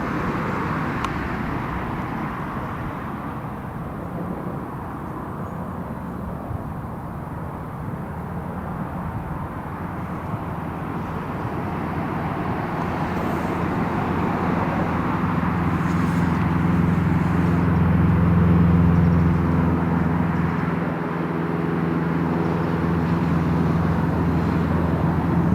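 An RAF Airbus A330 at Newcastle International Airport, a distant, steady jet engine roar lasting throughout, slowly building in loudness with a low rumble, heard from outside across the airfield.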